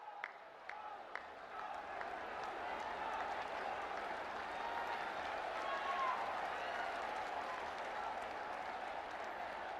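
Applause from a large crowd welcoming the Prime Minister at a medical college inauguration event in Siddharth Nagar, steady dense clapping that swells and holds throughout, with a few sharper individual claps standing out at the start.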